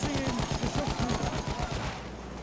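Sniper gunshots in a video game fire in a rapid, dense run of loud reports that merge into a steady fusillade, then cut off abruptly near the end.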